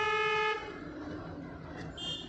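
A car horn gives a single short honk, loud and close, then cuts out, leaving road traffic noise and a faint distant tone.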